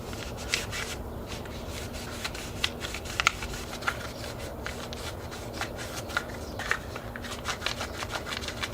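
Abrasive scuffing along a fishing rod's glossy surface before spray painting, a steady close scratchy rubbing with repeated short strokes and occasional sharper ticks.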